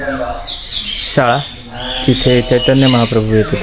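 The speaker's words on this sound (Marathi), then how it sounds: "पक्ष्यांचं किलबिलाट" Birds chirp and tweet around a quiet temple and old school site of Chaitanya Mahaprabhu in Mayapur, high twittering calls running through the clip beneath someone speaking.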